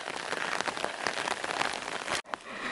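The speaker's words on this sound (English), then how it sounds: "Still raining." Rain patters steadily on an umbrella during a hike on the Pacific Crest Trail. The dense hiss of drops is close but soft and briefly cuts out near the end.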